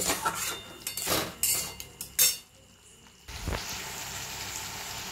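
Spices and salt for a fish curry being stirred in a hot pan, with a few scraping, clinking strokes of a utensil against the metal before a steady soft sizzle takes over.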